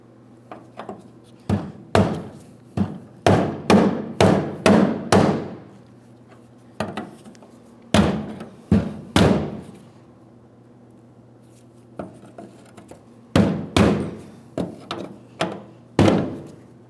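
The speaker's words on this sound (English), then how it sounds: "I'm going to continue on with my hammer and brass punch. We're tapping this clockwise until it's completely bottomed out" A hammer and brass punch tap the fuel pump lock ring on a 2007-2014 Ford Edge 3.5L V6. The sharp metallic strikes come close and loud in irregular bursts separated by pauses, with no talking.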